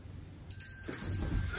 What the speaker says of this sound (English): I'm waiting for the bell.